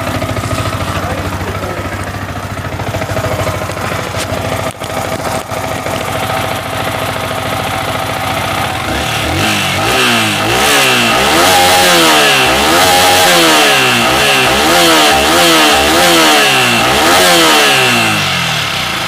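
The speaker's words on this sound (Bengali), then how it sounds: "এই হচ্ছে বাইকের সাউন্ড যেটা শোনালাম" A Yamaha R15 V3 BS6 motorcycle engine, with 9363 km on it, idles steadily at first, then revs loudly in repeated rising and falling bursts, close and without talk.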